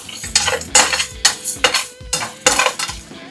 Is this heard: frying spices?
yes